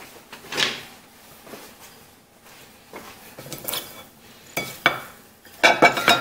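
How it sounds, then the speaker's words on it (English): Boiled potatoes and herbs for a lemony herbed potato salad are tossed in a bowl, giving a series of close scraping, clinking stirs that come in separate bursts with pauses between them and grow louder near the end. "I want to get my potatoes and herbs tossed"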